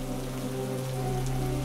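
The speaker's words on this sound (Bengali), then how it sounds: "বৃষ্টি থামবার কোনো লক্ষণ নেই" Steady rain falling as a cartoon sound effect, an even wash of patter that runs unbroken at moderate level over a low, constant musical drone.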